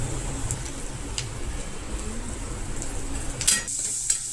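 Masala with tomatoes and a pinch of turmeric sautéing in a pan for ragda, giving a steady soft sizzle with light stirring scrapes and one louder clink near the end, no voices.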